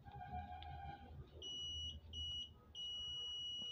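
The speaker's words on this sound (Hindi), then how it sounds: "तो वो क्या बीप का साउंड दे रहा है" A digital multimeter on continuity test gives a steady high beep, sounding in three sustained bursts with short gaps over a quiet, faint hiss, and no talk.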